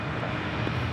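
A Delta Airlines Boeing 737-900ER departs LAX, its jet engines giving a steady, broad roar from a distance with no talk.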